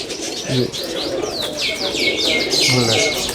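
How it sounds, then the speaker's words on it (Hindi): Sialkoti pigeons coo in low, repeated bursts close by, with chirps and light bird calls overlapping in a busy loft. "ये बटेरे कबूतर अच्छा। सियालकोट के।"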